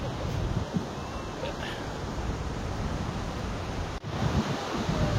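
Sea surf rolling onto Shrivardhan beach on the Konkan coast, a steady broad wash of breaking waves with wind buffeting the microphone throughout and a brief dropout near the end.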